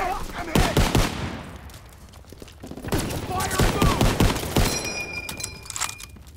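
Gunfire from an M1 Garand rifle in the World War II shooter Call of Duty WWII, heard as sharp bursts of shots mixed with other battle noise and firing, with a voice talking at times over the action.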